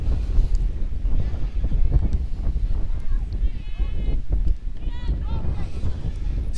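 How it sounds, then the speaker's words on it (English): Strong wind buffets the microphone in a continuous low roar at an outdoor baseball game, with bird chirps breaking through now and then. "Very, very windy here"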